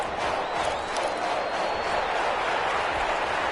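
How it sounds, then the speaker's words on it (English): Football stadium crowd on third down roaring steadily in support of the home defense, a dense, continuous wash of cheering and noise that holds at full level throughout with no single voice standing out. "This crowd urging on their defense. They're up and making noise."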